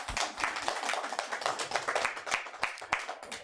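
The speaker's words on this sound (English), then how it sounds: "Let's clap for ourselves." Studio audience clapping together for a live evening news broadcast team, a dense, steady patter of many hands at moderate volume with a few sharper individual claps, no talking over it.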